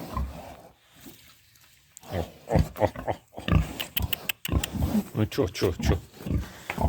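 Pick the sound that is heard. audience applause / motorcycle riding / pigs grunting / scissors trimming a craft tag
pigs grunting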